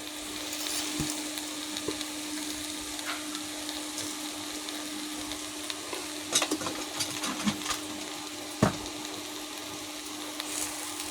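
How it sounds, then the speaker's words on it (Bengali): Carrot halwa is stirred in a pan over steady, close frying sizzle, with a spatula scraping and tapping now and then, a few louder knocks near the end, and no talk. "আমি আবারও ভালো করে নেড়ে দিলাম"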